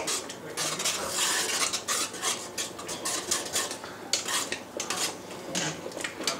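A spoon scrapes and clinks around a pot of thickening seafood pot pie filling, with steady scraping strokes and metallic taps up close, no talk.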